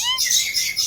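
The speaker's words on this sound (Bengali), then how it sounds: "কত বড় বড় পাখি।" At a zoo aviary that holds large birds such as scarlet macaws, birds chirp close and loud in a quick flurry of shrill, overlapping tweets.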